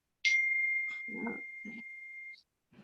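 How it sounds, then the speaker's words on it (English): A phone notification tone sounds once as a sustained electronic beep lasting about two seconds, loud and close. Brief murmured voices are heard beneath it, and a short blip comes near its end. "that's my phone"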